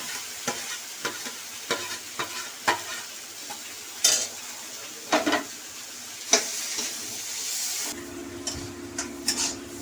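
Marinated loitta (Bombay duck) fish sautéing in a hot pan, a steady sizzle with scraping stirs every second or so, close and fairly loud, no voices.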